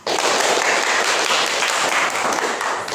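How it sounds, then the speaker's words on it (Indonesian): A classroom of students applauds together after singing a patriotic song with their teacher, a dense, steady burst of clapping that stays loud and even for the whole stretch with no voices over it. "tepuk tangan"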